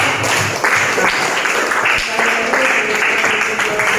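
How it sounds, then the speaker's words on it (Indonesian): Classroom applause for a student group that has just finished presenting, steady broadband clapping from many hands sustained at an even level for the whole stretch, with faint voices mixed in underneath. "kita kasih tepuk tangan untuk kelompok 3"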